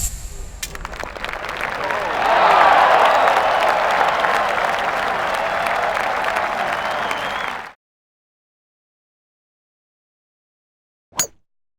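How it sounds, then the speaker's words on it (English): Crowd applause at the Farmers Insurance Open in the golf game Tiger Woods PGA Tour swells into sustained clapping and cheering, then stops abruptly, followed by silence and a brief sound near the end. "you just have to stand up and applaud"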